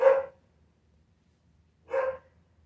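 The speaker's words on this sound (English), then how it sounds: "I am pretending I don't hear the dog." A dog barks twice indoors, two sharp, fairly close single barks about two seconds apart with quiet in between.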